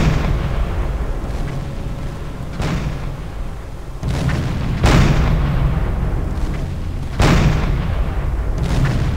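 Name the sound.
submarine gunfire hitting enemy vessel in Silent Hunter 4 video game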